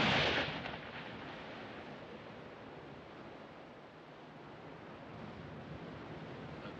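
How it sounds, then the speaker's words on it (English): Ocean surf rolls onto a shore as one continuous broadband wash, loudest at the start as a wave breaks, then a steady hissing roar that swells slightly near the end, with no voices. "them damn waves flopping in all day long"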